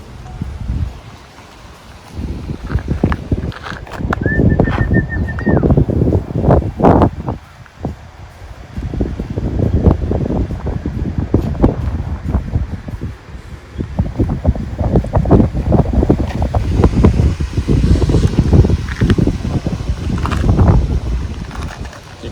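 Strong gusty wind outdoors during the arrival of racing pigeons up north, roaring and buffeting the microphone steadily throughout with a deep low rumble.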